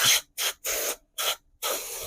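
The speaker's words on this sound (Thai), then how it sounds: "น้ำมันฉีดไล่เลยครับ" Cleaning oil is sprayed from an aerosol can onto Glock pistol parts in five sharp, loud hissing bursts separated by brief pauses, close and with no talk.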